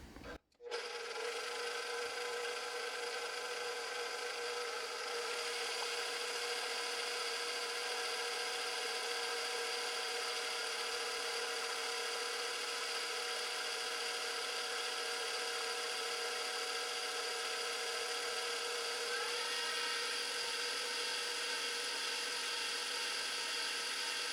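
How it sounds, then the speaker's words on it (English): A stand mixer kneads bread dough for artisan bread, giving a steady, even motor whine with a rasping, rubbing edge that holds unchanged throughout, close and fairly loud with no talk. "And now we're just going to turn the mixer on and mix it."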